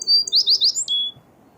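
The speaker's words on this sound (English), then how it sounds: "Listen, I think that's an American swallow." An American swallow perched in a tree sings a short burst of high, quick twittering chirps, close and clear over a faint background hum.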